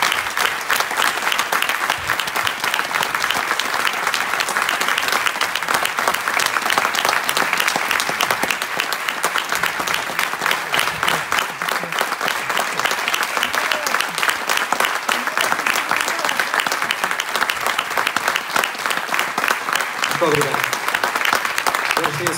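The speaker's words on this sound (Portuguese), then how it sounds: "eu quero uma grande salva de palmas para eles" Sustained audience applause at a Portuguese fado concert, steady and dense for over twenty seconds, with a few voices and cheers faintly mixed in near the end.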